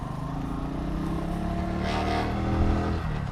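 A Bajaj Boxer 150 motorcycle engine running steadily on the road, a continuous low drone with a slight rise in revs, close and alone without talk.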